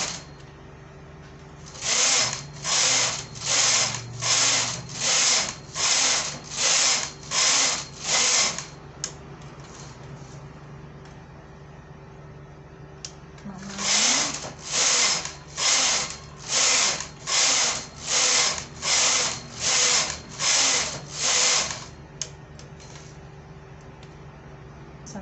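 A knitting machine carriage knits rows of a V-neck school sweater: two loud runs of about eight rhythmic, evenly spaced whirring passes each, with a short pause between them and no talk.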